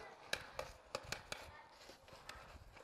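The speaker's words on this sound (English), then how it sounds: "You're gonna chop all of them and put it on top of your chicken." A knife chops onions on a cutting board while Yassa chicken is being prepared, about seven sharp, uneven strikes heard close up, with no talking.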